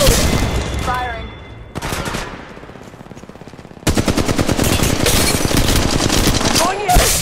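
Automatic gunfire rattles in rapid bursts during a match of Apex Legends Mobile on a phone, loud and close, with a short quieter pause between bursts and game voice lines over it.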